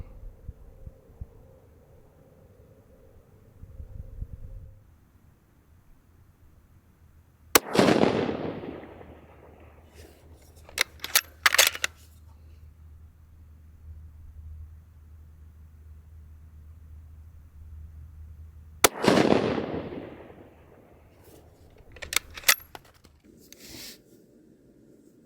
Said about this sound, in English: you saw that shot really well at 640 yards